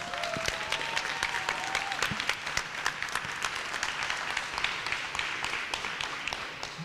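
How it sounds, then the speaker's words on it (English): A crowd at a youth climbing championship in an indoor climbing gym claps for the hosts, sustained applause with crisp individual claps standing out near the listener. "Big round of applause for them."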